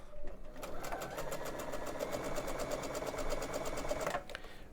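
A sewing machine stitching gingham quilt fabric, running in a fast steady rhythmic whir for about four seconds before stopping, close and clear.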